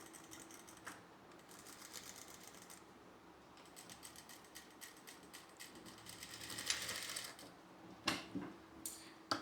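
A sewing machine stitches a seam along a marked line in a steady mechanical whir, with quick ticking bursts toward the end.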